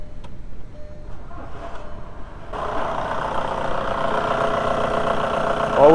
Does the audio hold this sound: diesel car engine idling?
yes